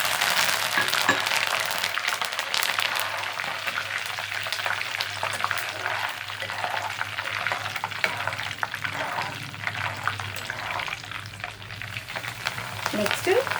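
Curry leaves fry in hot oil for a homemade hair oil, giving a steady, crackling sizzle close by throughout, with occasional light clinks of a utensil.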